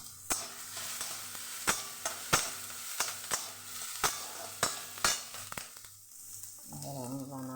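Rice sizzles and is stirred in a pan with ghee, cinnamon, cloves, nuts, onion and pepper, with about ten sharp spoon scrapes at a steady rhythm over a constant frying hiss, followed by a brief hum near the end.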